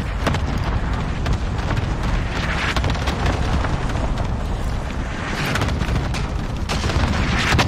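Grenades go off in the video game Call of Duty: Warzone as a dense, continuous stretch of loud booms and rapid gunfire crackles, with no clear gaps between blasts.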